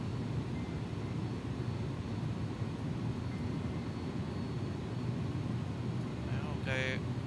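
Airbus A300 in the X-Plane 11 simulator rolling for takeoff on runway 16 right at San Francisco, a steady loud engine roar and rumble running throughout, with a brief higher whine near the end.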